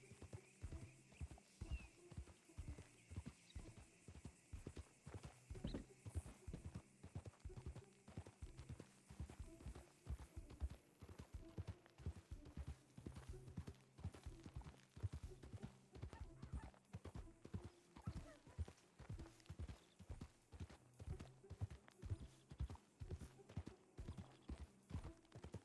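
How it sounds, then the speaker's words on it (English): Horse hooves clip-clopping in Red Dead Redemption 2, a steady rhythmic trot of many even hoofbeats at moderate volume throughout, with faint talk now and then underneath. "Thought I could hear another set of hoofs in front of us."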